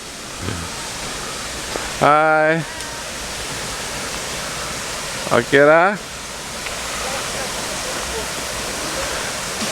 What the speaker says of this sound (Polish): No i tu jest nasza nasz wodospad.